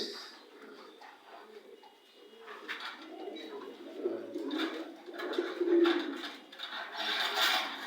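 A pigeon coos in repeated soft, low, throaty calls, close and fairly faint, rising and falling over several seconds, with people talking quietly in the background.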